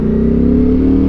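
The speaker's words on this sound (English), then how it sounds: "So 3-liter V6 engine" A 3-litre V6 engine in a seven-seater luxury SUV hums at a steady low pitch, close and loud, with an even tone and no audible rise in revs across the brief moment.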